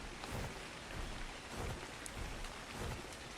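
Rain in the video game Ark Survival Ascended, on the Ragnarok map: a steady, faint hiss of falling rain with soft patter, continuous and even, with no voices.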